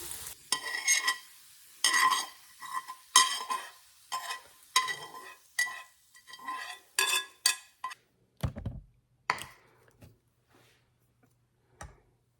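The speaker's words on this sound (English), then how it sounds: "We're just gonna brown this other side for a second, and these are done." Pierogies and onions browning in a frying pan, with repeated short scrapes and stirs of a utensil against the pan over faint sizzling, close up, ending in sparse taps.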